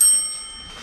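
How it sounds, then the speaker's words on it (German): A single metallic ring from a bicycle bell, bright and close at first, then fading over less than a second. "Da muss auch noch an die Klingel dran sein."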